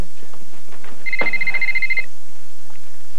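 A telephone rings in a home, a single electronic ringing burst lasting about a second with a steady warbling tone, fairly clear over a faint background hum, with no voices.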